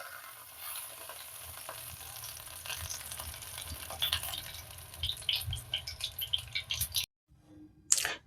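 Chicken chapli kababs fry in hot oil in a pan with a steady close sizzle and crackle that grows livelier and spattery, then cuts off briefly near the end before a final pop.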